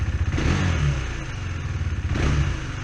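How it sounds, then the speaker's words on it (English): A 2017 KTM Duke 390 motorcycle engine running close by, a steady mid-pitched throb with a couple of brief revs rising and falling, no talk over it. "I have the Duke 390 2017 model with me"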